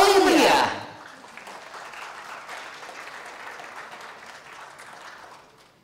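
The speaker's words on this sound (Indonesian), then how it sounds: "Kita sambut dengan tepuk tangan yang paling meriah" Audience applause at a corporate procurement talk event, a sustained wash of clapping after a loud opening burst of voice and sound, gradually fading out toward the end.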